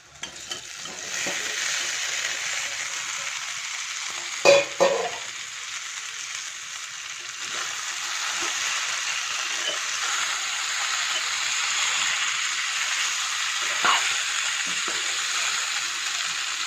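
Boiled Chinese potato (koorka) sizzling as it is stir-fried in a pan for a Kerala-style mezhukkupuratti, a steady close frying hiss with a couple of brief louder clatters of stirring, no voices.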